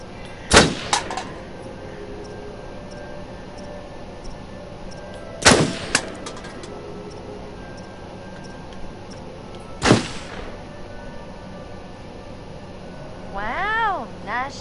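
Gunfire in a shooting sequence of the video game Until Dawn: three sharp, loud shots spaced several seconds apart over a low background hum, with a brief warbling tone near the end.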